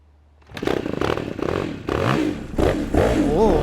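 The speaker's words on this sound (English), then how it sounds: "That's an odd sounding motorcycle." A twin-cylinder Aprilia MXV450 dirt bike starts up and revs close by in short bursts, its engine note rising and falling unevenly.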